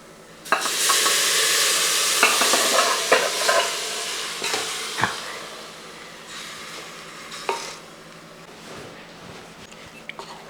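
Chicken and cassava in a cooking pot stirred with a spoon, a steady sizzle under repeated scraping strokes and a few sharper knocks against the pot, close and fairly loud, with no talking.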